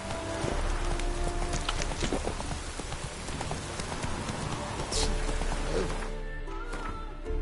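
Roach, the horse in The Witcher, gallops in quick steady hoofbeats over steady rain, with a brief louder burst near the end before the hooves fade.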